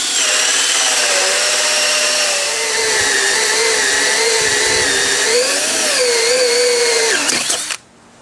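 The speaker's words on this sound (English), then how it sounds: "position where I can drill a hole for the dowel that is going to be part of the catapult" Power drill boring a hole for a dowel through a wooden 2x12 for a catapult axle, a loud, close, continuous whine that sags in pitch under load for about seven seconds, then stops.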